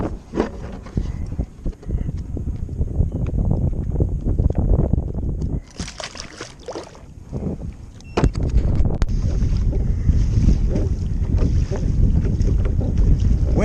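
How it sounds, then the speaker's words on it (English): Wind gusting over the water at Mosquito Lagoon during a kayak fishing trip, a loud steady roar of wind buffeting the microphone that dips briefly midway and then surges back. "Wind is picking up."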